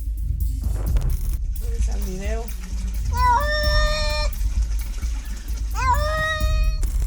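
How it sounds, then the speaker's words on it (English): A small cat meows several times while being bathed, its rising, strained cries standing out near and loud over a steady wash of running water. "This little cat is suffering what he surely considers the worst punishment, taking a bath."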